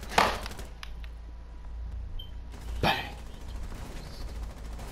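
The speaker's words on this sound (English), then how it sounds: "Did you see him start shooting it like a machine gun?" Gunfire crackles in two sharp bursts close by, a loud rapid volley at the start and another a few seconds later, with a steady outdoor rumble underneath.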